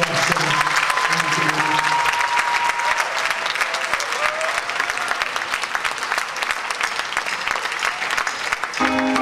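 A concert audience applauds in a dense, sustained, loud roar of clapping lasting about nine seconds, with a voice briefly heard beneath and a short tonal sound at the very end.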